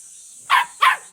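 A farm dog at a grandfather's rural home barks twice in quick, sharp succession, loud and close, excited, over a steady high background hiss with no talking.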